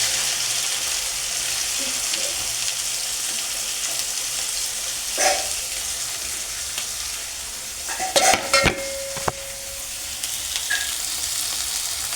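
Chicken biryani base being fried and stirred in hot oil, a steady sizzle throughout with a few sharp clanks and scrapes of a spoon against the pot near the middle, close and fairly loud, with no talking.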